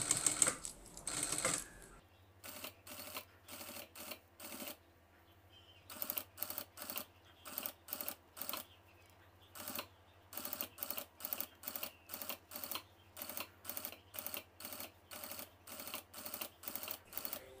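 An old industrial sewing machine fitted with a direct drive motor stitches slowly around a curve in short, evenly spaced bursts of needle clatter, with brief pauses between runs over a low steady motor hum.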